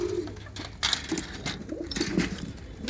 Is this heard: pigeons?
yes